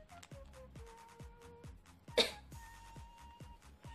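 A single sharp cough or sneeze bursts out midway, set off by makeup powder during a balloon-and-water makeup session, over a steady rhythmic musical backdrop.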